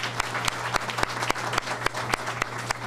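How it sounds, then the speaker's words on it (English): An audience applauds the mayor at a tech launch event. Close, loud clapping with sharp, regular beats stands out over a broad crowd wash. "let's give her a big round of applause"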